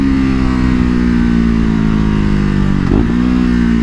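A KTM RC 390 motorcycle engine drones steadily up close, dropping in pitch as it downshifts, with a brief burst of crackling exhaust pops near the end.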